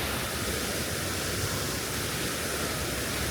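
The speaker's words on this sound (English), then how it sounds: "waterfall." A waterfall in Chapultepec, Mexico City, rushes as a steady, dense broadband roar that fills the whole span evenly and without pauses, with no voices over it.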